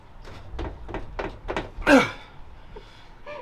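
A series of close wooden knocks and rattles, then a louder scraping creak as a door on an aluminum catamaran swings open, followed by a soft thud.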